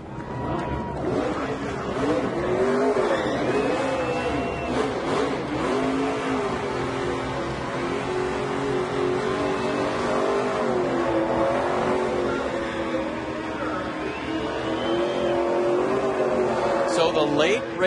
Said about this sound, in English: Brad Keselowski. His team saw him take that two-tire stop, parlay it into victory again here in Iowa. Brad now doing the donuts